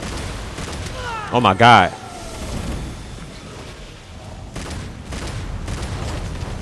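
Gunfire in the video game Devil May Cry 5, a short loud burst of shots and impacts amid game effects, while a player talks and exclaims over the action.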